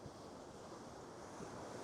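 Powerful ocean surf breaks along a beach while fishing, producing a dense, continuous roar of crashing waves mixed with wind buffeting the microphone.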